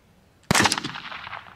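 A single sharp gunshot cracks out after a near-silent moment, its echo trailing off and fading over the following second.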